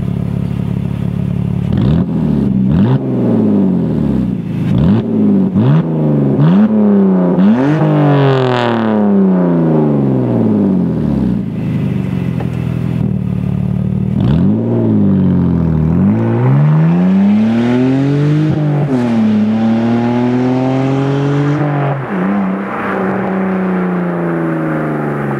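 Straight-piped BMW E46 sport wagon exhaust, running with only catalytic converters and nothing to muffle it, revving repeatedly with rising and falling sweeps, loud and close, with no talking.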